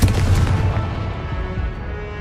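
Confringo fire spell in Hogwarts Legacy going off as a deep, booming blast that hits hard at the start and then rumbles away over a couple of seconds, with no voices.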